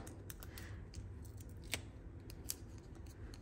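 Scissors make quick, quiet snips while trimming craft material for a paper amp box, with several sharp cuts in a short, faint burst.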